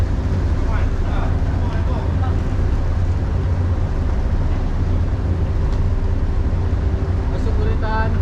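Aboard the Samudra 8 ferry crossing from Batu Pahat to Selat Panjang, Indonesia, a steady low engine rumble mixes with water noise throughout, with faint voices in the background.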